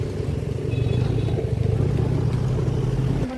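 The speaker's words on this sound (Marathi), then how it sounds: "आता आम्ही गाडी लावतोय।" A car being parked in a crowded spot at Kaneri Math near Kolhapur, its engine giving a steady, close, low rumble that holds throughout before a slight change at the very end.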